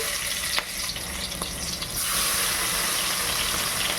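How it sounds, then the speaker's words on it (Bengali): Mustard oil with marinated shrimp for a prawn-and-onion dish, first a few clicks and crackles, then a loud, dense hissing sizzle that swells and holds steady as the shrimp hit the hot oil, up close and without voices. "তেলটা তো গরম হয়ে গেছে। আস্তে আস্তে করে এই যে মাখা চিংড়িগুলোকে আমি ছেড়ে দেব।"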